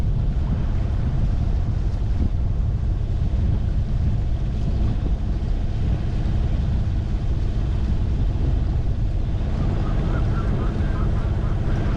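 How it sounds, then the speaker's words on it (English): Wind blowing hard over a boat at sea, a loud, steady rushing roar buffeting the microphone, with water wash underneath that continues for twelve seconds. "Wind is coming over a bit through here."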